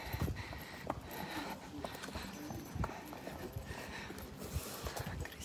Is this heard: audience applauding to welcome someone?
no